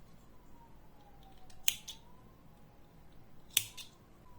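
Two crisp scissor snips cutting crochet yarn, spaced about two seconds apart, close and fairly quiet over a soft background hum.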